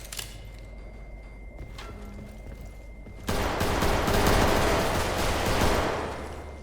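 Gunfire in a Roblox horror game: scattered faint shots at first, then a sustained loud burst of rapid, overlapping fire filling the second half, with no talk.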